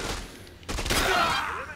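A burst of gunfire in Dead Rising 2: a quiet stretch, then a sudden sharp report followed by a dense rattling volley that rings out and decays over about a second.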